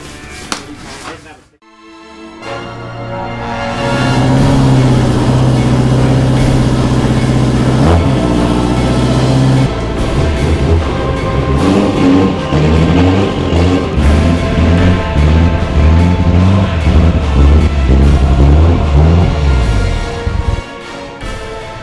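A turbocharged Yamaha Apex snowmobile engine starts and revs hard, rising and falling in repeated throttle blips that build into sustained high-rev roaring, loud and close.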